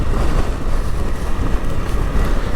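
Steady wind roaring and buffeting at close range on a misty mountaintop near the Arctic Circle, a constant low rumble with gusty texture and no voices.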